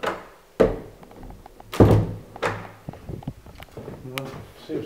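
A door being repaired gives a series of solid thunks and knocks, with two sharp loud bangs and several softer bumps and rattles close by, while a voice talks between them.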